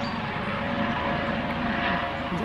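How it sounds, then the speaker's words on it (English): A helicopter flies over a military base near the Roman town ruins at Caerwent, a steady broadband engine and rotor drone heard continuously at moderate distance. "there's a helicopter flying over here."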